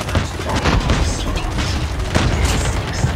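Bomb explosions in Call of Duty Mobile zombie mode: a dense, loud string of booming blasts and crashing bursts, close and continuous for a few seconds, with little talk over it.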